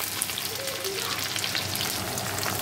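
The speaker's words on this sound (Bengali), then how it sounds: "অনেকদিন পর তড়কাটা রান্না করছি। এবার পেঁয়াজ দিয়ে দেবো," Onion and ginger fry in hot oil with garlic for a tadka, giving a steady, close crackling sizzle that runs evenly throughout with no talking.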